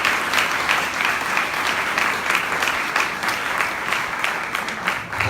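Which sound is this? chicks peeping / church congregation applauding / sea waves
church congregation applauding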